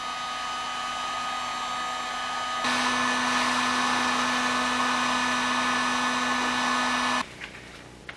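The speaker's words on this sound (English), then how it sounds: "Heat gun." A heat gun blows into a fuel tank from a 1976 Mazda RX-5 Cosmo during restoration, a loud steady whirring roar that jumps to a higher setting partway through, then cuts off, leaving a quieter room with a faint clatter.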